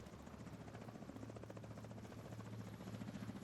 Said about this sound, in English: Now they're gonna send in the chopper